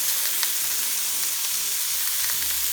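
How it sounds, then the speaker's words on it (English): Meat sizzles loudly in a hot, oiled frying pan as okonomiyaki cooking begins, a dense continuous hiss with small crackles and pops, close and steady, with no voices. "I'm gonna first put in the meat, evenly spread out."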